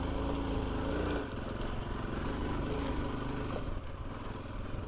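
A Royal Enfield Himalayan 411 motorcycle in first gear on a hill, its single-cylinder engine a steady low thrum that drops slightly in pitch partway through, close and continuous with no voices.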